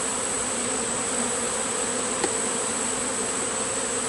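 A dense swarm of honeybees flies around an open hive during an inspection, a steady, even buzz filling the air throughout, with one brief closer pass partway through.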